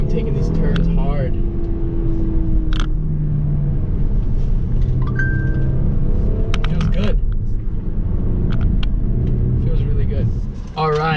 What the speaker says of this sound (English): When you just get on that acceleration, oh man, I'm taking these turns hard.